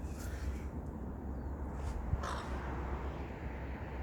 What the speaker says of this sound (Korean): 까마귀 한번 찍어볼까요?